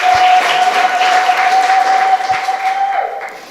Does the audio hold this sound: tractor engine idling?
no